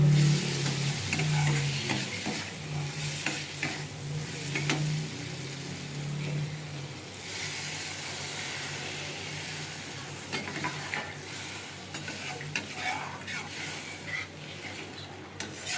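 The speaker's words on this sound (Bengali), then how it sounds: "এবার আমি জল দিব" Water goes into oily masala frying in a pan for tangra fish curry. Loud crackling sizzle surges and settles as a spoon keeps stirring, with scraping and bubbling that carry on steadily for the whole stretch.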